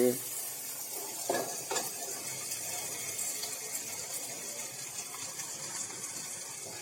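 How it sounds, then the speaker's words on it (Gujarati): Garlic and green chillies sizzle in hot tempering oil for a sprouted moong dish, with a steady hiss and occasional stirring scrapes, close and continuous throughout. "લસણની ટુકડી, લીલા મરચાં અને મરચાંનું કટિંગ કરેલું છે તે અંદર ઉમેરી દઈશું મિત્રો, કારણ કે તેનો સરસ મજાનો વઘાર થાય છે"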